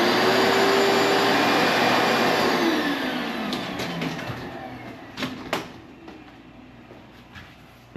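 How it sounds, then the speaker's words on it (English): A vacuum cleaner roars steadily, then its motor whines down as it switches off, leaving a few sharp knocks and clicks at the end. "Let's get the vacuum and clean it up."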